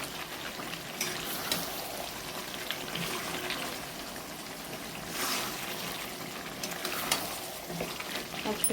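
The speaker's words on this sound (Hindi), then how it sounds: "ये देख सकते हैं कितने अच्छे से फ्राई हो रहे हैं" Mutton pieces sizzling and frying in oil in a home kitchen, a steady crackling hiss with occasional stirring scrapes, close and continuous.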